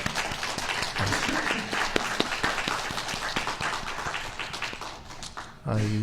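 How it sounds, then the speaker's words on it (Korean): A church congregation applauds a couple's wedding vows steadily for several seconds, dense clapping throughout, then fades as a low tone enters near the end. "우리 한번 격려와 응원과 사랑의 박수로"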